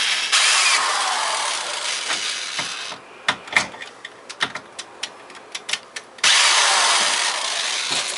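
Power drill driving 3-inch deck screws into a spline roadbed: a burst of loud whirring, then a run of sharp clicks and short ratcheting spurts, then another sustained whir, close up with no talk.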